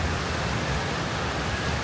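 Rain falls steadily in Kuala Lumpur, a dense, even wash of hiss with no breaks and no voices.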